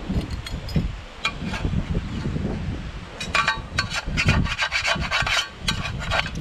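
Gunk is scraped off a Honda lawn mower blade with steady, close rasping and rubbing strokes that continue throughout the clip.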